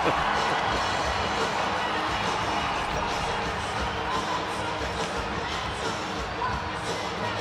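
A hockey arena crowd at a Boston Bruins versus Detroit Red Wings NHL game roars in a continuous loud din, with scattered shouts rising over it and faint talk underneath.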